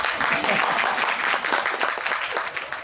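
Audience clapping at a Tamil stage event in Chennai, a dense, steady wash of many hands filling the hall, with murmured voices faintly mixed in throughout.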